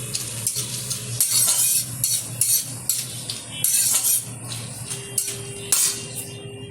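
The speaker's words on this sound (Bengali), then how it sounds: "গোটা জিরেটাও একটু নেড়ে চেড়ে নেব" Whole cumin seeds are stirred in a pan while cooking mutton vindaloo, giving a close, soft scraping of a spoon with light sizzling and a few faint clinks against the pan.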